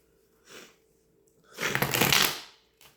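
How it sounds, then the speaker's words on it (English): A tarot card deck being shuffled by hand: a brief soft riffle, then a louder, longer shuffle lasting about a second, close and quiet, without talk. "I'm just going to shuffle the deck"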